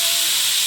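Green chillies fry in hot oil, a loud close burst of hissing sizzle, brief and continuous.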